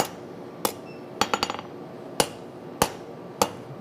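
A hammer strikes aluminum during forging: sharp, ringing metallic blows land one at a time at an uneven pace, one quick cluster of light taps among them, loud and close, with no talking.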